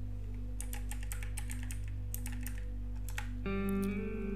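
Someone types a search on a computer keyboard, with quick bursts of close key clicks over a steady electrical hum, then a brief bright tone as the typing stops.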